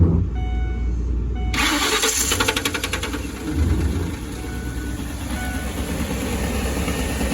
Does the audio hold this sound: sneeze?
no